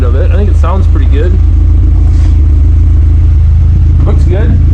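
A car engine fitted with a cheap eBay exhaust revs loudly and steadily up close, a deep droning note with rising and falling pitch sweeps throughout, no talk over it.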